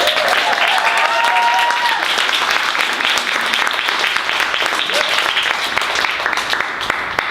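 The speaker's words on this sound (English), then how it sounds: "everyone give her a round of applause tonight" A book launch audience at a poetry reading claps in loud, sustained applause that fills the whole stretch, with a few voices faintly audible beneath it.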